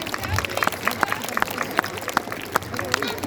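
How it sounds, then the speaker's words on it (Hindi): A school audience gives loud applause for skit performers, with sharp, scattered claps and a crowd bustle running throughout beneath a voice speaking over it. "तो सर के लिए एक जोरदार ताली हो जाए"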